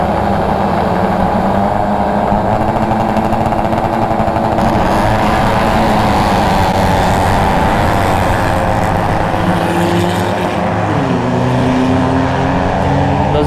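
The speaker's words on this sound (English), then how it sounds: "7 riders, all young kids, ready to launch their bikes." Honda 250 race motorcycles ridden by seven young riders launch together from the start, their high-revving engines forming a loud, continuous, dense roar that rises in pitch as they accelerate away, with no talk.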